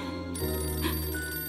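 A telephone rings for an incoming call, steady electronic ringing tones filling the room, clear and alone with no talk.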